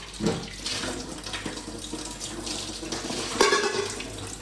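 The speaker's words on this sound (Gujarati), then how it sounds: "હાલો આપણો ગોળો સરસ ભરાઈ ગયો." Water pours steadily into a clay pot, a continuous splashing gurgle with a brief brighter splash near the end, close by and without talk.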